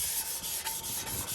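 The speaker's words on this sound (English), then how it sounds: "let's get to sanding" Hand sanding of motorcycle parts, a faint, brief run of quick rubbing strokes with no talking.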